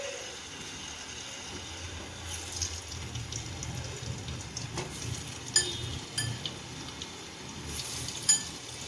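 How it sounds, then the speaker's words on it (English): Potatoes frying in mustard oil for a Bengali-style spicy chicken kasha, a steady low crackling sizzle throughout with occasional sharper pops and clinks from a utensil. "I'm cooking in mustard oil because I love mustard oil, and fry the potatoes"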